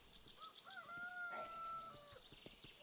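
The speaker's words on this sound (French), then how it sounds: "on en a un là de coq" A rooster crows in a drawn-out call in the farming game Force of Nature, over a background of chirping birds and soft farmyard ambience.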